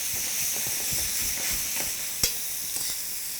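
Mushrooms and artichokes sizzle steadily in olive oil in a pan, with soft stirring scrapes and one sharp utensil clink near the end.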